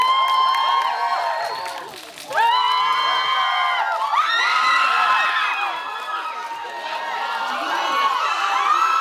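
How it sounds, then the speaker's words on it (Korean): A large cinema audience cheering and shouting as film actors arrive for a stage greeting at Lotte Cinema in Incheon, loud and continuous throughout, with excited whoops rising over the din. "큰 박수로 맞이해 주시면 감사하겠습니다."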